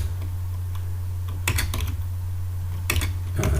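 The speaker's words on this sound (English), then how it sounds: "I'm going to type" Several short bursts of keystrokes on a computer keyboard, clustered in quick flurries with pauses between, sitting over a steady low electrical hum in a quiet room.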